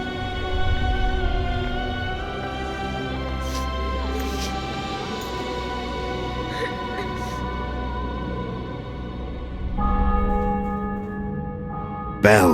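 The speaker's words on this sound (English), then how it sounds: "bells." Church bells peal in a conquered city with a fortress in The Witcher 2: Assassins of Kings, steady and resonant, tolling continuously over a low ambient drone and fading into a brief final swell.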